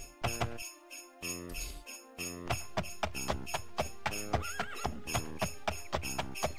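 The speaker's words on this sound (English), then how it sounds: "the horse is amazing" A horse in the video game The Elder Scrolls II: Daggerfall gives a sharp neigh among rhythmic clip-clop hoofbeats. The hooves keep a steady, close, evenly spaced trot to the end.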